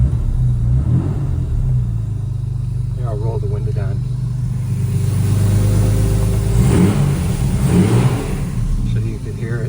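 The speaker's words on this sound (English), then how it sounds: "But it has a nice deep burble to it." A 63-year-old carbureted car with a push-button starter runs with a deep, steady low burble that swells slightly midway, close and loud, while someone talks over it.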